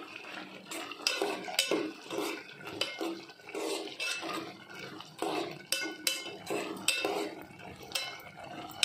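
Metal spoon scraping and clinking against a pot while stirring a ridge gourd curry, with irregular clanks and scrapes in bursts, close and fairly quiet, and no talk.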